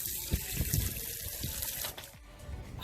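Water runs from a tap in a brief, close, splashing stream that softens slightly near the end, with no voices.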